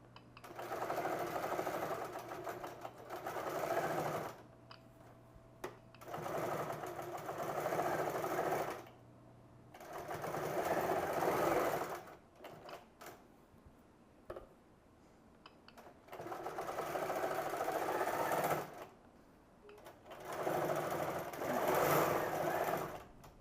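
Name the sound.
sewing machine stitching baby jacket pocket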